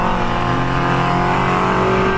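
Prototype race cars racing on a wet cross circuit at the 2015 Antoing Cross Festival, heard from on board. A loud, continuous engine roar drones steadily throughout without a break.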